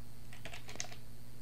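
Quick taps on a computer keyboard during a C++ programming lecture, a short run of light key clicks close to the microphone over a steady low hum, with no talking.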